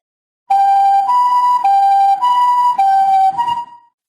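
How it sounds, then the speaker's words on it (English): Siren wailing in a steady two-tone pattern, alternating between a lower and a higher pitch about every half second, loud and close, then cutting off. "those warnings got louder until the sirens began to wail"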